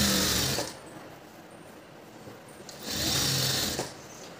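A sewing machine stitches a blouse seam along a marked line in two loud close bursts, one at the start and one later. Between them is a quieter stretch of low mechanical running.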